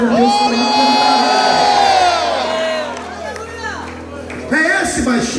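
Worshippers at a Pentecostal church service raise a loud sustained shout of glory, many voices crying out together. The roar fades, then swells again near the end.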